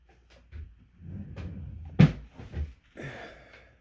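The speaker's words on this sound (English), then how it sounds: "So we'll get that tucked away in the drawer." A desk drawer slides shut with a single close thump, set among light handling rustles while small die-cast model car packages are being put away.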